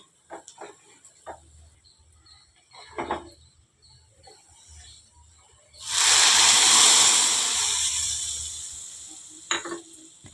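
Fried cashews and raisins tipped into coconut payasa, a loud hissing sizzle bursting in at six seconds and fading over a few seconds, with light spoon taps and faint talk around it.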